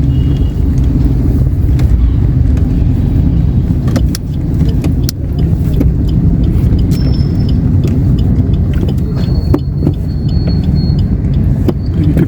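A car moves slowly through a very narrow lane in old Bikaner, its engine a steady close rumble throughout with a few faint clicks and knocks on top.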